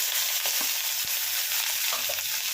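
Potatoes and cauliflower fry in a pan with a steady, bright sizzle, and a few soft knocks and scrapes of stirring sound under it.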